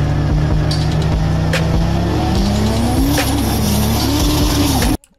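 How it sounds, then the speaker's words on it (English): A car in a video game accelerating hard, a loud close engine roar climbing in pitch with a high whine over a steady rumble, cutting off abruptly at the end. "Here's a little cheat code on how to go fast in the car."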